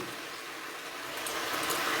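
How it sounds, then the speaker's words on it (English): Steady sizzling of crispy chow mein frying in a pan, a broad continuous hiss that grows slightly louder, with no voices. "nice sizzling chow mein"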